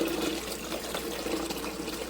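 Filtered water from a pitcher pours into a countertop ice maker, making a steady, moderately loud splashing stream that runs unbroken throughout.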